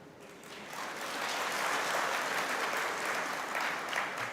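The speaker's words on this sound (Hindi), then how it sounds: "अब आप लोगों ने ये तालियां क्यों बजाई हो मुझे बताएं" An audience applauds steadily throughout a spiritual talk on collaboration, a dense wash of clapping that swells in the first second and holds at an even, moderate level without voices.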